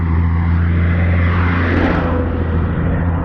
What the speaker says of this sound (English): please wait for the very loud truck